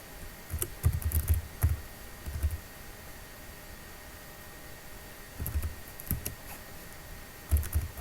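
Computer keyboard keys clicking as a new password is typed, in short bursts of several quick keystrokes separated by pauses, fairly quiet and close.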